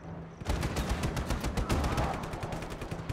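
Rapid, loud bursts of mounted turret gunfire from a vehicle in the video game Just Cause 3, a dense automatic rattle running almost continuously after a brief quiet start.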